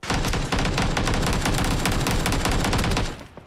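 Dense, continuous video-game gunfire rattles out in rapid automatic bursts for about three seconds with a brief dip near the half-second mark, loud and close; no distinct grenade blast stands out before the firing fades at the end.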